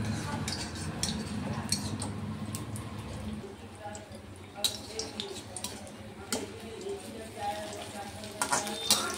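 Battered eggplant slices (beguni) fry in oil with a steady, moderate crackle, broken by scattered clinks of a utensil against the pan and occasional sharper pops.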